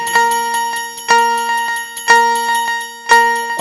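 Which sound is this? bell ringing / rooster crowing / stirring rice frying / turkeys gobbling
bell ringing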